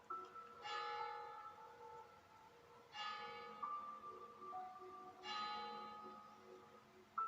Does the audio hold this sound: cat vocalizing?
no